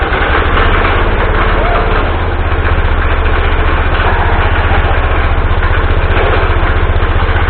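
A 1979 216 engine, freshly brought back to running, idles steadily and loudly up close with a constant low throbbing rumble that never lets up, and faint voices can be heard beneath it.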